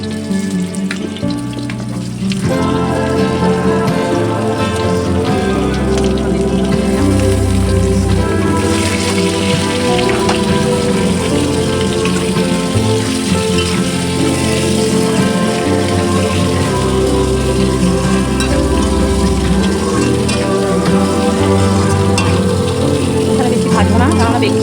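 Potatoes fry in hot oil in a pan for a hilsa fish curry with potato and eggplant, giving a loud, steady sizzle throughout over low background music.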